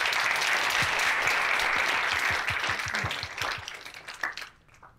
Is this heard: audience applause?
yes